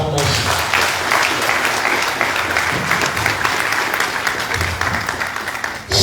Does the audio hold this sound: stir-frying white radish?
no